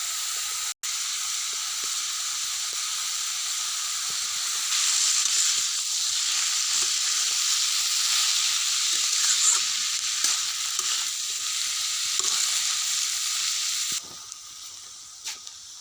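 Half-boiled Maggi noodles are stir-fried in a pan, giving a continuous close sizzle with faint stirring scrapes, a brief knock near the start and a quieter stretch at the end.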